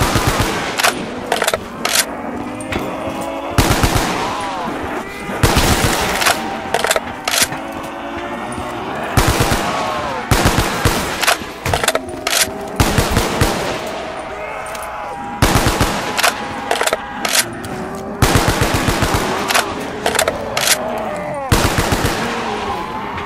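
Rapid gunfire in Black Ops 3 custom zombies, loud repeated bursts of automatic shots in quick clusters across the whole stretch, close and dominant, with short gaps between volleys.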